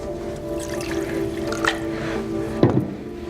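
Water pours steadily into a vessel during a nighttime moon ritual, a continuous liquid trickle running throughout with a brief splashy burst near the end, no talk over it.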